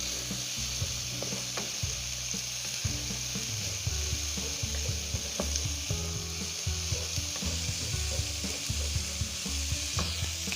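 White Chinese cabbage is stir-fried in a pan with a continuous sizzle and quick, repeated clattering scrapes and taps of a spatula, close up and without voices.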